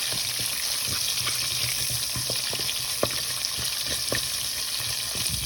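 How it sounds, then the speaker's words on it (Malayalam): Garlic, curry leaves and ginger fry in oil with mustard seeds for a raw mango pickle, giving a continuous dense sizzle with scattered pops and a few light utensil taps, close and steady. "നമ്മളതിലേക്ക് വെളുത്തുള്ളി ഇട്ട് കൊടുത്തു, കറിവേപ്പില ഇട്ട് കൊടുത്തു, ഇഞ്ചി ഇട്ട് കൊടുത്തു."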